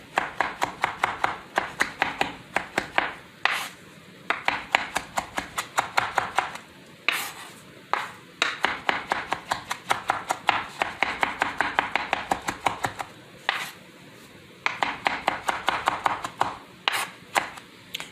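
A knife chops fresh cilantro on a cutting board in quick rhythmic runs of sharp taps, pausing briefly between bursts, close and steady with no talking.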